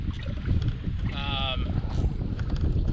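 Strong, relentless wind on open water during a kayak bass fishing tournament, a constant low roaring buffet across the microphone with a brief faint whine midway.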